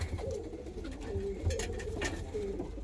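Omski pigeons in a fancier's loft give low, rolling coos in a steady series close by, over a soft background hum.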